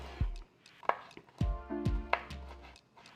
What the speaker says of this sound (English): So I'm going to go ahead and get that chopped up.